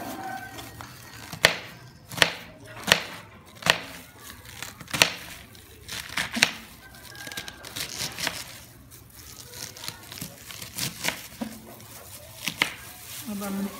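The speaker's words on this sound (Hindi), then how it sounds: "एप्पल कैबेज को हमने यहाँ से इसकी कटिंग करते हैं।" Apple cabbage is cut with a knife in a restaurant-style salad kitchen, making a series of sharp, distinct chops spaced about a second apart, with crinkling in between and a person speaking throughout.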